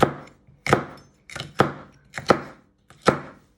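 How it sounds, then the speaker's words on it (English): A knife chops food into pieces on a cutting board, with six sharp, distinct thuds at an uneven, unhurried rhythm, close and clear. "And you just want to chop it into pieces."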